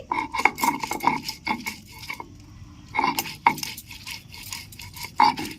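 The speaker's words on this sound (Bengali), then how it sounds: "মোচাটা আমি বেটে নিচ্ছি" Boiled banana flower is ground into a mash, heard as close, rhythmic rasping and scraping strokes in short bursts with brief pauses between them.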